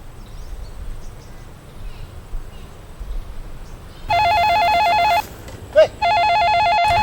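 A mobile phone rings with a repeating electronic ringtone in two loud bursts separated by a short gap, following a stretch of muffled background noise and distant voices.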